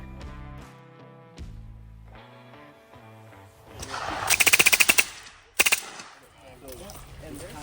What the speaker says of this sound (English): Had quite a few cool guns you could shoot, including this custom modernized Russian RPD.